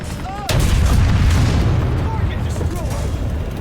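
An M1 Abrams tank cannon fires in War Thunder, a sudden loud boom that opens a long, heavy low rumble, with faint game radio chirps and tones over it.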